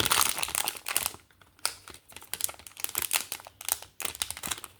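Foil wrappers of Magic: The Gathering collector booster packs crinkle and crumple in close, irregular bursts with short pauses between handfuls, loud and up front with no talking.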